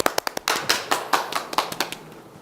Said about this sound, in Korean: 박수로 맞겠습니다.